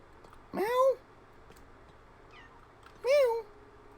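A cat gives two drawn-out, rising-and-falling meows about two and a half seconds apart, fairly close and clear over a quiet background.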